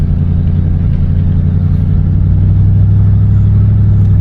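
Big-block V8 of a 1977 Lincoln Continental revving steadily at a close, loud level, a deep continuous engine roar with a rough low rumble and no voices over it.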